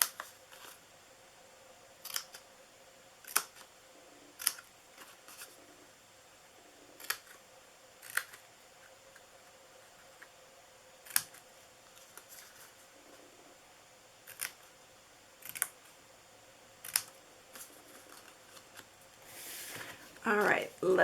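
Scissors snipping the corners of a paper gift box, about a dozen crisp, sharp single cuts spaced a second or two apart over a quiet room hum, with a brief rustle at the end.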